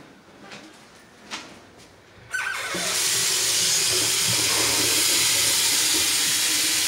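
A kitchen sink tap opens after a couple of faint knocks and pours water in a loud, steady broadband rush that fills the rest of the clip, close by and unbroken.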